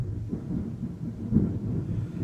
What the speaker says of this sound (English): There's a giant thunderstorm going on as I'm trying to record this video.